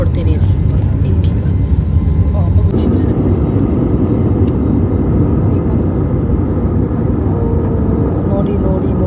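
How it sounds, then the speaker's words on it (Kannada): A passenger airplane takes off on a flight from Goa, heard from inside the cabin as a loud, steady engine roar throughout, with voices talking beneath it. "ಇವಾಗ ಫ್ಲೈಟ್ ಹೆಂಗೆ ಟೇಕ್ ಆಫ್ ಆಗುತ್ತೆ ಅಂತ ತೋರಿಸ್ಕೊಡ್ತೀನಿ ರೀ ನಿಮಗೆ"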